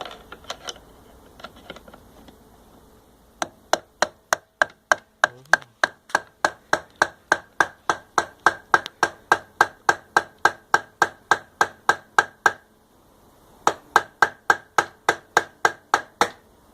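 Sharp metallic club hammer taps on a Suzuki GS 500 carburetor strike in a steady rapid series, dozens of evenly spaced blows, pausing briefly before a final run; no talking.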